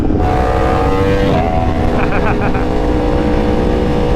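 A Dodge Hellcat's engine roars loud and continuous from a moving ride, with heavy wind rush and a muffled voice underneath.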